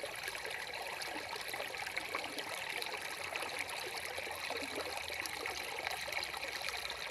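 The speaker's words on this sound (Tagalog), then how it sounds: "Yung dalawang water pump, mga ka-farmers, ayan yung tubig niya oh." Water gushes steadily from a farm irrigation water pump, a constant broadband rushing and splashing flow with no pauses, moderately distant and alone.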